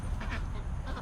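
Young ducks quack repeatedly in a brooder pen, several short nasal calls close by over a low background rumble.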